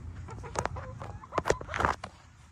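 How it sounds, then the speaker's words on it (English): An upset young rooster in a backyard flock gives agitated, broken clucks and squawks, several sharp bursts in quick succession, fairly close by. "This is an upset rooster."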